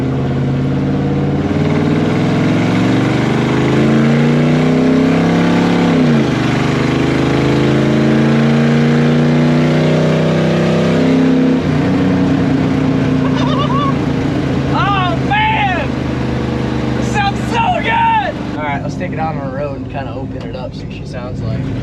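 A 1955 Buick Special fitted with a cheap Amazon exhaust kit idles and revs in a deep, loud, throaty drone, rising and falling with throttle blips, while people talk excitedly over it.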